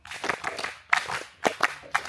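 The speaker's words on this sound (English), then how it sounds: "Pathfinders, ready, clap." Pathfinder youth group at a survival camp clapping together in unison, sharp crisp bursts arriving in three quick rhythmic clusters, close and moderately loud.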